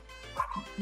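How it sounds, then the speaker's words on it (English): A dog on a Casey Key beachfront property in Sarasota gives a short bark or yip, close and fairly clear, lasting under a second with no talk over it. "sorry about my dog Curly"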